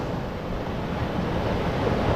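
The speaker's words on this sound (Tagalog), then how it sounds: "malakas po yung hangin" Strong wind buffets the microphone over the sea while waves wash and churn steadily beneath it, a loud dense roar with no voices.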